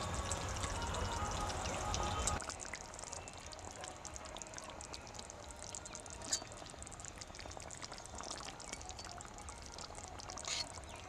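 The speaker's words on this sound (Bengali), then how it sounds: "মশলা থেকে তেল ছেড়ে দিয়েছে, এবার আমি জল দিয়ে দেব।" Water goes into frying masala in a pan for a Bengali pangas fish curry. A short pour with a sizzling burst lasts about two seconds, then a quieter crackling simmer continues alone.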